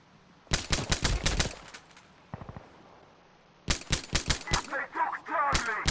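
Bursts of M9 pistol gunfire in the shooter game Insurgency Sandstorm: one rapid string of sharp, loud shots, a softer distant pair, then another quick volley followed by fainter shots and clatter.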